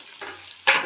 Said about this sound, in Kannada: ಆಯಿಲ್ ಬಿಸಿ ಆದಮೇಲೆ ಆವಾಗಲೇ ಹಚ್ಚಿಟ್ಕೊಂಡಿದ್ವಲ್ಲ ಹಸಿಮೆಣ್ಸಿನ್ಕಾಯಿ ಹಾಕ್ಕೊಳ್ಳೋಣ, ಕೊತ್ತಂಬರಿ ಹಾಕ್ಕೊಳ್ಳೋಣ, ಪುದೀನ ಹಾಕ್ಕೊಳ್ಳೋಣ, ಕ್ಯಾಪ್ಸಿಕಮ್ ಹಾಕ್ಕೊಳ್ಳೋಣ